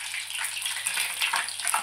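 Salted green chillies frying in hot oil for mirchi bajji give off a continuous bright, crackling sizzle up close as the water cooks off, with no voices.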